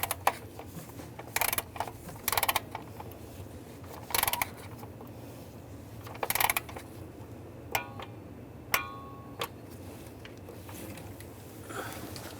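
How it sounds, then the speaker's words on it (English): A torque wrench ratchets while ignition coil bolts are tightened on a RAM 1500 with a 3.6L V6, giving several short, close clicking bursts spaced a second or two apart against a quiet workshop background. "Now we're going to torque these to 89 inch-pounds."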